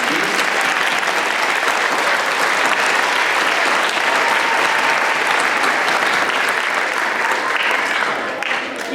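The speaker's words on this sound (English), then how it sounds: "If we could get one more round of applause for" Dense, sustained audience applause at an elementary school D.A.R.E. graduation, continuing evenly for several seconds before easing slightly at the end.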